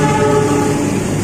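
A train passes close by, a loud continuous rumble with a sustained horn-like tonal drone filling the brief moment.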